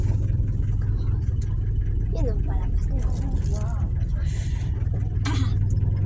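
A car's engine rumbles low and steady from inside the cabin while driving over pavement, continuous under frequent talking voices.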